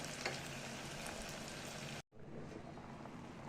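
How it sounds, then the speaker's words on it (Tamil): A steady, close sizzle of a handful of onions frying in a pan until golden for veg biryani, continuous and hissing, briefly cutting out before resuming at the same level. "கைப்பிடி வெங்காயத்தை போட்டு நல்லா ஃப்ரை பண்ணிக்கணும்"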